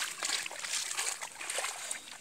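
Flood water flows through the Khodiyar temple in a steady, hissing rush with light splashing, moderately close and fairly quiet throughout.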